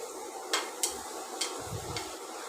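Onions sautéing in a pan for an egg curry, a soft steady sizzle with a few sharp clicks of a spoon against the pan and a low stirring thump near the end.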